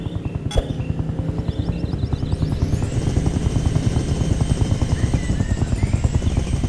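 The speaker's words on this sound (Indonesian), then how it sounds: "Kita menemukan helikopter." A video game helicopter's rotor thumps in a steady rapid chop with a whining turbine over it, loud and constant throughout, with a sharp click near the start.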